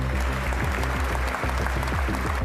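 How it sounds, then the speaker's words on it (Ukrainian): Applause inside Notre-Dame Cathedral in Paris, a broad, continuous clapping wash blended with a loud low tonal drone, likely organ, throughout, with no speech. "Щемкий момент у соборі Паризької богоматері його зустрічають оплесками"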